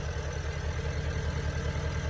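A Porsche Cayenne 958 engine idles steadily with a vacuum leak, a low rhythmic rumble under a constant airy hiss, close and fairly loud throughout.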